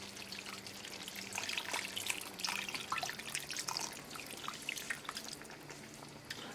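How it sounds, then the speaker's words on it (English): Water poured into a pot of chicken drumstick and potato curry, a steady splashing, bubbling pour with dripping and sizzling texture, close and moderately quiet, no talking. "After mixing it well, add 1 cup more water."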